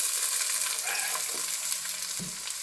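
Green chilies and curry leaves sizzle in oil, a continuous bright crackle close by with a few soft knocks of a stirring spoon near the end.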